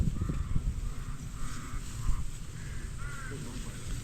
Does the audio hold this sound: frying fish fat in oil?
no